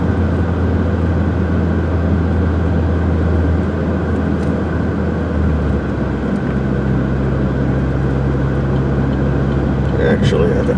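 Car cruising on a freeway without being shifted into sixth gear: a steady, loud engine drone with road and wind noise, and a shift in engine tone midway, running throughout without voices.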